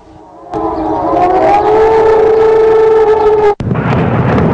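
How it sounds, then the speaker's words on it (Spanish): Air raid sirens in Baghdad sound in the early morning as a 2003 attack is announced, a loud wailing civil-defense tone that rises and holds steady. It cuts off abruptly before a burst of rough, noisy rumble. "Sonaron las sirenas en Bagdad anunciando el ataque."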